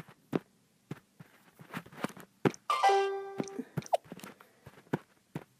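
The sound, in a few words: Windows 3.0 'Chimes' system sound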